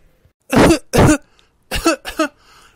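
A person coughs up close: two loud, harsh coughs, a short pause, then two more rougher, throaty coughs in quick succession.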